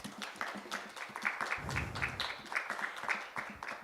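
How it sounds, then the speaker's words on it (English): Audience at a TiE Women regional finals pitch event gives a round of applause, a scattered, moderate clapping that runs through the whole stretch with a low rumble partway through. "So can we have a round of applause for all that TiE women do?"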